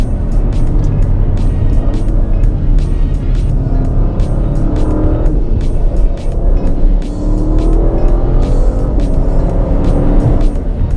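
A 2017 Porsche Panamera Turbo on winter tires, heard from inside as a loud, steady road and engine rumble that holds through the whole stretch with small swells.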